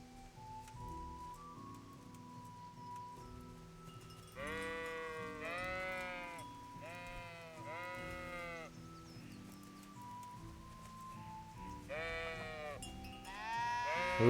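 Sheep in the video game Kingdom Come: Deliverance bleat in several wavering calls that come in clusters, fairly close, over a low ambient game background with soft rustling.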